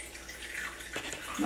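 Liquid cleaner for an air conditioner in Florida pours into a measuring cup, making a soft, steady trickling and splashing that builds slightly toward the end.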